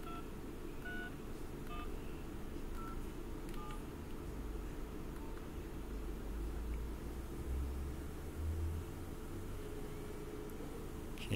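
A series of short, evenly spaced telephone dialing beeps rings out as a GSM call is placed through an Osmocom OsmoTRX/OpenBSC stack on a LimeSDR, over a steady hiss and low background rumble.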